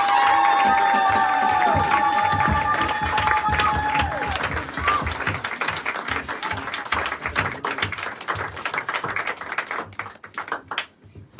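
A church congregation at a Sunday service breaks into loud applause and cheering. Voices and a sustained tone ring out at first, then the claps settle into dense, fading hand-clapping.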